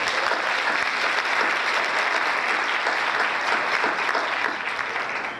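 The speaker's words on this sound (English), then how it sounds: "Big round of applause for all of you for being here today." Sustained audience applause fills the room at a Sandy Hook Promise awards ceremony for a school district, loud and steady throughout with no talking.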